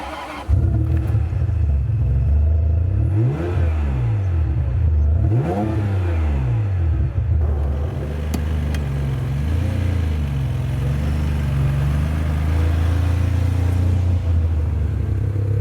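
A Ferrari 550 with a V12 engine revs and drives, its deep engine note swelling and falling through several loud up-and-down revs and gear changes before settling into a steady, rumbling cruise, with no talk.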